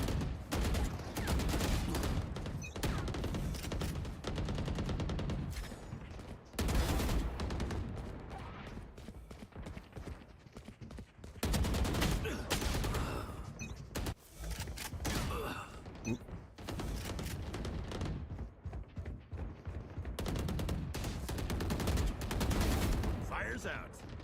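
Rifle gunfire in a first-person shooter video game, with repeated bursts and single loud shots crackling close by across the whole stretch, broken by brief pauses, with some speech mixed in.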